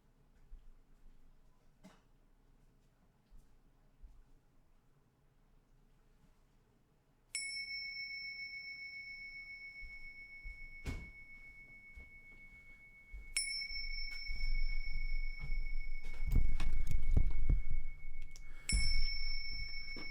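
Meditation bells at a mindfulness (MBSR) session: three clear struck tones, each ringing out and slowly fading, in an otherwise quiet room with some low shuffling noise near the end.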